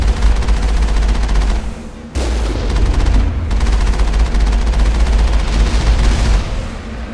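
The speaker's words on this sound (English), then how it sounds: "Alright, got some heavy turrets." Heavy turrets fire in the video game Mass Effect, a loud, dense barrage of rapid gunfire that runs almost continuously, with a brief break near the start before the shooting resumes.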